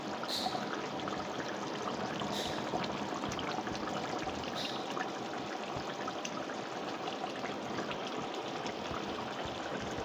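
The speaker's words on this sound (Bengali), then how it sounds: "এবার গরম জলটা দিয়ে দেবো" Hot water poured from a vessel into a pan of cooked, spiced chicken in a home kitchen; a steady, continuous splashing stream runs close and even for about ten seconds, with no voices over it.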